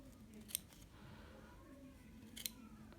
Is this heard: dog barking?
no